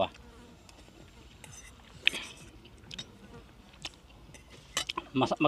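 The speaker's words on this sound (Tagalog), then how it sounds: "Ang problema lang dito kasi maraming langaw." Flies buzz at a campsite in Poland, faint droning with several louder close passes near the end, with no talk over them.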